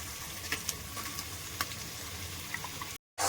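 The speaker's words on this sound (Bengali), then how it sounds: "ভালো করে কষিয়ে নিচ্ছি" Chicken frying with green chili and coriander paste: a dense, close sizzle with a few light stirring clicks, then a brief cut to silence just before the end.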